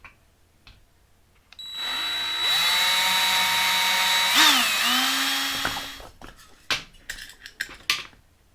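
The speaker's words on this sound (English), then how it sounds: "Got her all drilled out." Power drill whirring steadily while boring holes in a custom 1955 Chevy Bel Air gasser, one continuous run of several seconds with the pitch dipping under load, followed by a few sharp metallic clanks.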